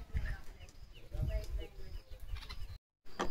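A sparrow nesting in a house yard gives faint, brief chirps amid outdoor background noise, while a person talks quietly nearby.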